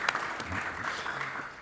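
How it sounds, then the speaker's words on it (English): Audience applause after a panel talk at an arms control and disarmament discussion, a steady wash of clapping from a room of listeners lasting under two seconds, moderately loud with no talk over it. "Also deserves a round of applause."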